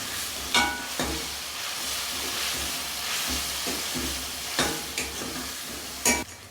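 Ginger and garlic sizzle and fry in a pan for a home-style mixed dal, a steady crackling hiss broken by a few louder stirring scrapes, close and alone with no talk.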